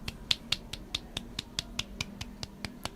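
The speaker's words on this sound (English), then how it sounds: "even a clap" A lone, light hand clap sounds in a small bookshop gathering celebrating eighteen book sales, as a quick, evenly spaced run of about fourteen sharp, quiet claps with no voices around them.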